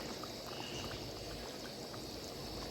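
Cornflour mixture is poured slowly into a simmering village-style bagda prawn masala curry, a faint, steady liquid pour and gentle bubbling in a quiet kitchen.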